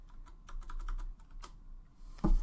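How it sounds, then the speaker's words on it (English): Typing on a computer keyboard, about a dozen light keystrokes in a quick uneven run with a heavier tap at the end, close and fairly quiet, with no voices. "so down here is this little box for the scale, and I'm just going to type 40 million."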